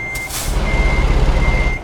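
Reversing beeps sound from a truck backing up to a trailer in American Truck Simulator, a loud high-pitched tone repeating in long pulses over a steady low diesel engine rumble.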